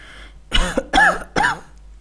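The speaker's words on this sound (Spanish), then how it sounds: "Entonces el viejo tosió." An old man in bed coughs three times in close succession, loud and near, each cough a harsh throaty burst, with brief silence between them.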